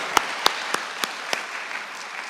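Church congregation clapping in praise at a Friday service: several sharp claps in an even, spaced rhythm, then a soft, diffuse wash of sound trailing off.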